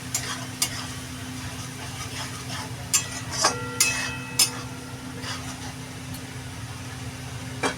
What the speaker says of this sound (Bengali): এবার সবগুলো একসাথে ভালো করে মিশিয়ে নেবো মশলাটা দিয়ে যাতে কাঁচা গন্ধটা না বেরোয়